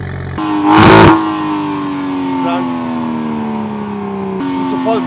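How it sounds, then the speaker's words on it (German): A loud BMW 1 Series engine drones at steady high revs, its pitch easing slowly downward, with a brief burst of broadband noise near the start and another rise at the end; a voice talks over it. "Habt ihr schon mal einen 1er BMW gehört, der so laut ist?"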